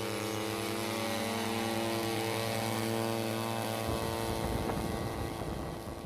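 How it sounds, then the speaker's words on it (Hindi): A disinfectant-spraying drone sanitizing streets in Mumbai gives off a loud, steady propeller whine with tonal hum, joined midway by a rougher, broadband rushing as spraying or motion intensifies, with no talk. "साफ सफाई का काम यहां पर ड्रोन करते हुए नजर आ रहे हैं"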